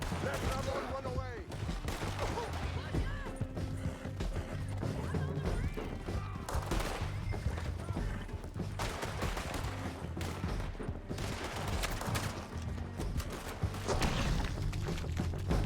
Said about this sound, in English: I shoot okay?